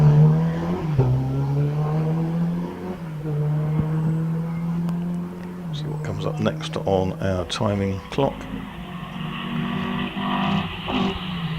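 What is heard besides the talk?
Triumph TR4 racing up hillclimb course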